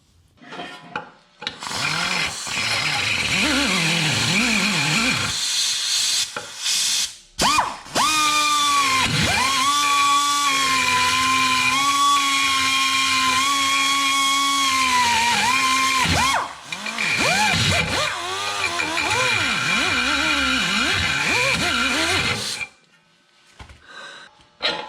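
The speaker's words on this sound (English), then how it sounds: "I've already set up my grinder here, and I only have to grind just a little bit." An angle grinder grinding a suspension part during a Toyota Corolla control arm and ball joint replacement, producing a loud, sustained close-up whine with rising and falling pitch as it works, stopping and restarting a few times.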